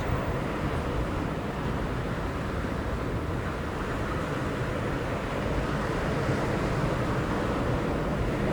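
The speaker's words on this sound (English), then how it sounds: "Just listening to the waves." Ocean waves wash in a continuous broad roar, steady and fairly loud, with a gusty wind-like rush and no voices.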